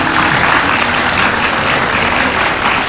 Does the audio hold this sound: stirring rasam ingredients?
no